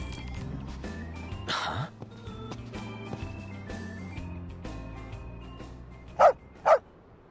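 Two short, loud barks from a dog near the end of a Final Fantasy XV scene, rising sharply above a steady bed of game music and ambience.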